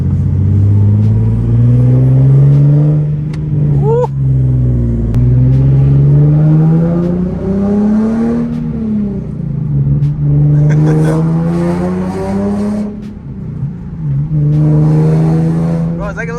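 A Nissan 370Z with a manual stick shift drones steadily from close inside the car while driving, its revs swelling and dipping in long waves, with faint voices now and then underneath.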